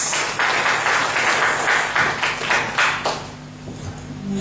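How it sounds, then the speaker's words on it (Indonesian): Seminar audience in Timor-Leste clapping, a loud, uneven patter of hands that trails off abruptly after about three seconds, leaving low hum and faint room noise. "Kita tepuk tangan buat kakak Joyce"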